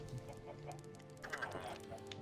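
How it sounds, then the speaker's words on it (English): Chickens in the Minecraft game cluck softly amid game noise, with a brief squawky burst near the end as one spawns, faint and close. "Just heard the chicken pop."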